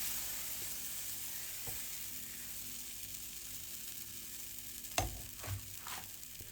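Batter sizzles steadily on a hot pan in a Japanese-style healthy cooking session, with a constant soft hiss and a few sharp utensil knocks near the end.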